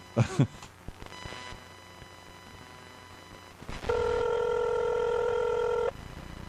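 Telephone dialing: several faint key clicks and low tones, then a loud steady dual-tone held for about two seconds, close and without talking.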